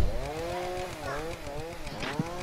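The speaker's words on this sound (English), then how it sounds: "chainsaw go on for so long?" A chainsaw in a Roblox horror game drones loudly and continuously, its buzzing engine pitch wavering up and down without any speech.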